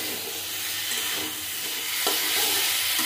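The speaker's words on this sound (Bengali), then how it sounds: "নাড়ি চাড়িয়ে নেব।" Sajna drumsticks, bitter gourd, potato and bean curry being stirred in a pan, a steady close scraping and soft sizzle running continuously without pause.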